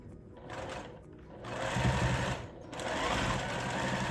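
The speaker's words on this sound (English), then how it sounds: "Sorry, I'm not sure if you can hear me over the sewing machine." A home sewing machine stitches a Lori Holt Chicken Foot quilt block in a steady mechanical whir that pauses briefly and restarts. It runs loud and close, with faint talk beneath it.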